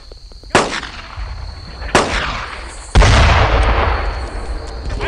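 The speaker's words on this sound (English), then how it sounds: "I'm taking their fire here!" Gunfire in the WWII shooter game Brothers in Arms: Earned in Blood: three sharp, loud shots or blasts spaced about a second apart, each trailing off into a rumbling battle backdrop.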